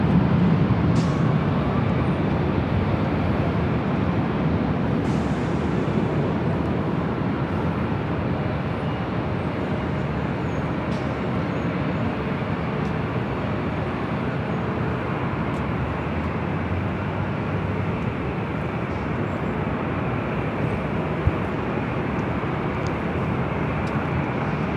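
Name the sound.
Southwest Airlines Boeing 737-700 arriving at LAX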